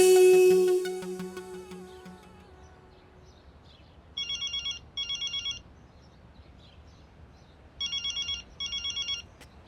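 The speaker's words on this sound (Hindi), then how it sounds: "किसी का फोन आ रहा है, देखिए" A telephone rings with an incoming call: after a fading musical tail, two pairs of short, bright electronic ring bursts repeat clearly at a moderate volume in an otherwise quiet room.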